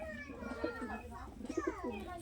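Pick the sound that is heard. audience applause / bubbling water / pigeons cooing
pigeons cooing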